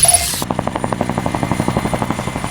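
A Mi-24 attack helicopter flies past, its rotor beating in a fast, steady pulse with an engine whine running through it. The sound is loud and close and holds for the whole stretch with no voices.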